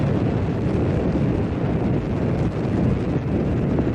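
Space Shuttle Challenger's rocket engines at launch on mission STS-51-L make a steady, dense, rumbling roar, loud and unbroken for the whole stretch with no voices.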